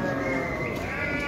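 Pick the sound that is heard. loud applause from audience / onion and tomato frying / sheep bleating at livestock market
sheep bleating at livestock market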